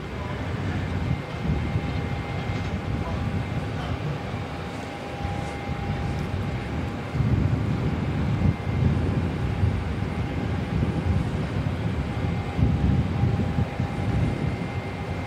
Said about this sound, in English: Jetstar 134 heading off to the Gold Coast.